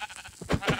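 Minecraft sheep bleats in two short, close, fairly loud bursts, with no talking over them.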